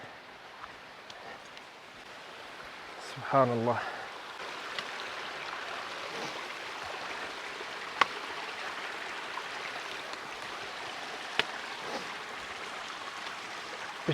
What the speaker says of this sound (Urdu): پانی کی آواز آ رہی ہے یہاں سے.